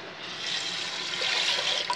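Water pours steadily into a pressure cooker holding roasted rice and lentils, a smooth, close hissing stream, growing slightly fuller as it goes.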